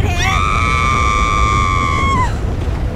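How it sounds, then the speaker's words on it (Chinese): A single long, high-pitched scream from a survivor in the zombie-themed GTA5 game rings out for about two seconds, sliding up at the start and dropping off sharply at the end over low background rumble. "怎么有尖叫声？"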